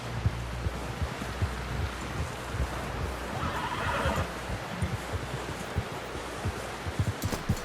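A horse whinnies in a video game amid rustling and scattered hoof clops, with a steady low background hum.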